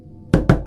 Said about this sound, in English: I heard a loud knock on my door.